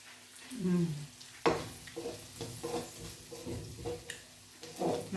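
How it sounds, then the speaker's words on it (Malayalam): Ginger and garlic fry in a pan with a low sizzle, broken by repeated scraping and clinking strokes of a stirring spoon; a voice murmurs briefly alongside. "ഇഞ്ചിയും വെളുത്തുള്ളിയൊക്കെ ഒന്ന് മൂത്ത് വരട്ടെ."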